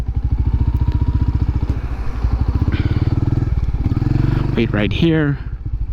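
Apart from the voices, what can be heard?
Royal Enfield Hunter 350 motorcycle riding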